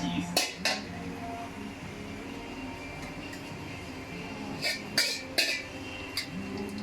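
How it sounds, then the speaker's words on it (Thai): Wide rice noodles being stir-fried in hot oil in a pan, a steady sizzle with sharp clusters of metal spatula scrapes and clanks against the pan, fairly close. "ผัดเส้น"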